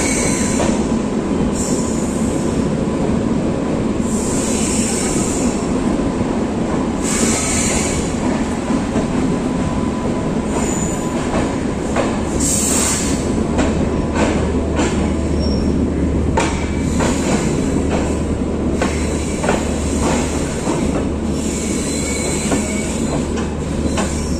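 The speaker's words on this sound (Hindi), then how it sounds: "फाइनली ट्रेन पहुंच चुकी है दिल्ली सराय रेलवे स्टेशन पे।" The Ajmer Janshatabdi Express pulls into Delhi Sarai Rohilla station with a loud, steady rumble of rolling railcars, clacking wheels over rail joints and occasional squeals and hisses.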